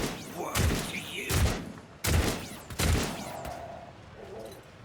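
Gunfire from the video game Warhammer 40000: Rogue Trader, four loud, sharp broadband bursts roughly every 0.7 seconds with ringing tails between them, followed by a quieter fading rumble and faint game sounds.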